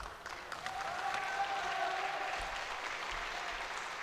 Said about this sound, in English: The Polish people cheering him on.